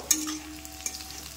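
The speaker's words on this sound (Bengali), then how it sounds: "এবার আমি এতে কুচিয়ে রাখা লঙ্কাগুলো দিয়ে দেবো, দিয়ে ভালো করে এটাও ভেজে নেব" Green chillies frying with onions in a pan, giving a faint, steady sizzle with a couple of light stirring scrapes near the start.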